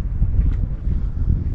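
Steady low wind buffeting and rumbling across an outdoor microphone on a cold wintry hill walk to Windy Gyle, continuous with no voices.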